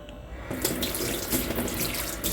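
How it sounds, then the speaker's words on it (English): Pasta and its cooking water are poured from a pot into a sieve to drain, a steady rushing splash that starts suddenly and continues close by. "pour the rest of the pasta in it so that it can drain"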